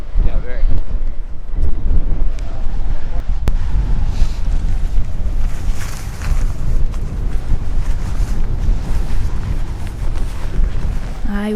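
Strong, cold gusting wind on a mountaintop near Fitz Roy, Argentina, roars and buffets the microphone continuously, loud and close, with voices talking faintly beneath the blustery noise.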